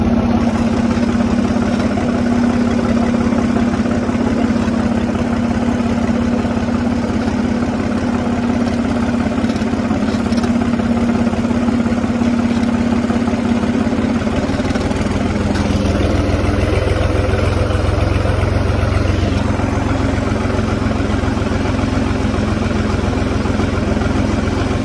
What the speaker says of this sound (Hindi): ट्रैक्टर का सेल्फ नहीं लग रहा है तो ट्रैक्टर को चालू कर रहा है PTO से